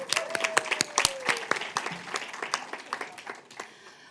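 An audience at an International Women's Day symposium panel claps in a lively burst of applause that gradually thins out over a few seconds.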